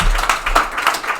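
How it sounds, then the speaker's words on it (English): A small graduation audience claps briefly, a few loose bursts of hand claps in an uneven rhythm, fairly close. "You can clap."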